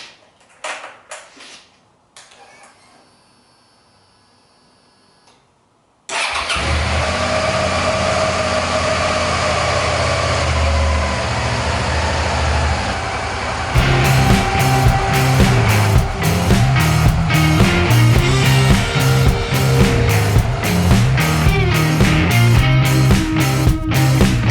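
Suzuki SV650S motorcycle engine cranking and firing on a test start after winter storage, settling into a loud steady idle, then a rougher pulsing run.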